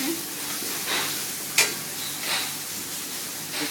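Steak sizzles in a hot pan with a steady, fairly quiet hiss, broken by a few brief louder spits and one sharp clink partway through; no one speaks.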